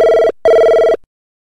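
A telephone ringing at close range, two loud electronic rings of about a third and a half second each separated by a short gap.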